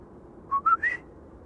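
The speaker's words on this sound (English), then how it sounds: "It's coming from that white box over there, where there is equipment that measures the height of the clouds and the" A ceilometer, cloud-height measuring equipment at Schiphol Airport, gives three short rising whistle tones in quick succession, faint and distant over a low background hum.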